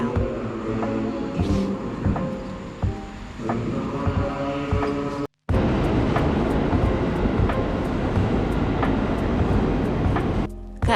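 Steady rumble of an airport train running on rails, a continuous interior drone with regular clicks of wheels over track joints and a brief dropout midway.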